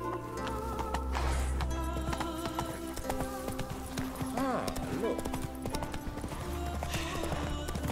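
Hoofbeats of Geralt's horse Roach in The Witcher 3, a steady clip-clop over game music with a brief whinny, while a voice talks over them.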